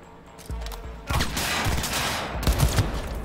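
Gunfire in Cyberpunk 2077 during a headshot attempt: a few sharp shots, then a loud sustained barrage of rapid fire with a final burst of heavy blasts, close and dense, with no talking.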